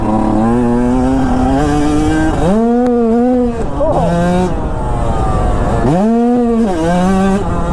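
A dirt bike engine revs hard and loud, its pitch climbing and dropping in repeated surges, close by and constant throughout.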